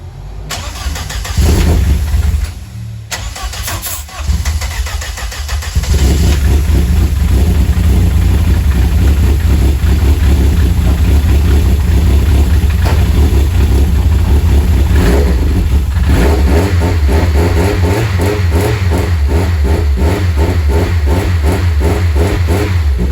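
A rebuilt twin-engine Vauxhall Corsa fires up after a few seconds of cranking, then settles into a loud, steady idle punctuated by repeated revs, close to the car and with no talking.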